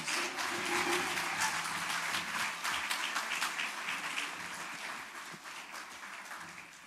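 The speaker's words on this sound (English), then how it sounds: "Give that sister another round of applause, please." Warm audience applause at a community commemoration event, a full steady roar of clapping from a crowd that gradually tapers near the end, with faint voices beneath.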